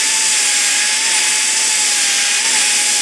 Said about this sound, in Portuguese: Fica bem didático eu usar a broca na proximal para vocês entenderem